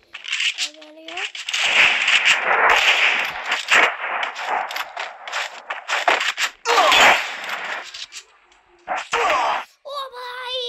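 Gunfire in the mobile battle-royale game Free Fire, including AWM sniper shots, comes as repeated sharp bursts and crackles through a busy stretch, with a few quieter gaps and a player talking over parts of it.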